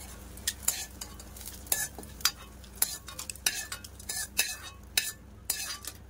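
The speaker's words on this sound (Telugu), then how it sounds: "పచ్చిమిర్చి ఇంకొద్దిగా ఫ్రై అవ్వాలండి" Green chillies fry in a pan for coconut chutney while a utensil stirs and scrapes in sharp, irregular clinks over a soft, steady sizzle, close and moderately loud.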